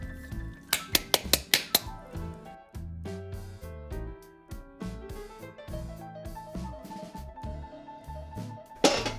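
Tomatoes being tipped into a bowl in a small kitchen set off a quick run of sharp dish clinks and clatters, followed by softer knocks and handling sounds, then one last clink.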